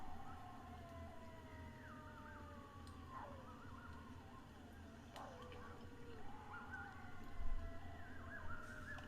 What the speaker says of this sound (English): it sounds like some type of screaming is happening, and then you're hearing a bunch of wolf howls.